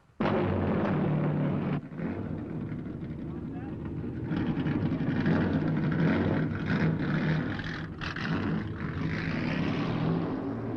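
A Jaguar XJ-S Trans Am race car engine fires up and runs with a loud, rough, continuous roar that swells and dips slightly, while voices are faintly heard beneath it.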